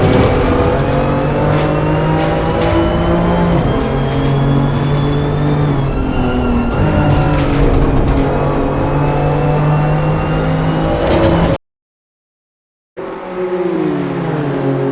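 BMW M2 CS race cars roaring along the track, engines holding steady high revs with shifting tones and a brief gear-change dip, loud and close, cut off by a short silence before the engine noise resumes.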